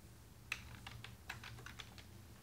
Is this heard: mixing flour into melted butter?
no